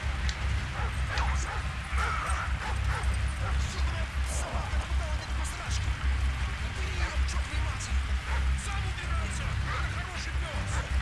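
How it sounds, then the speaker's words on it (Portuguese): Dogs bark and yip among rumbling battlefield noise in Call of Duty Modern Warfare 3, with someone talking over the repeated barks. "Só que eles estão usando cachorro também, cara."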